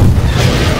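A grenade explodes in Garry's Mod, giving a loud, close, sustained boom that fills the short moment without any voices.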